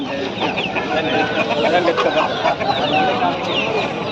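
Saleṁ-breed hens clucking at a busy rural Sunday poultry market, several birds calling close by in irregular bursts amid crowd noise while people talk over them.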